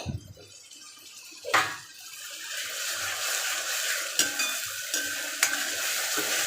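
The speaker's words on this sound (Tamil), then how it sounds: "இஞ்சி பூண்டு சேர்த்த உடனே நல்லா வதக்குங்க" Onions with ginger and garlic sautéed in a pan for a vada curry, a steady close hiss of frying with a few sharp clatters of a spatula stirring through it.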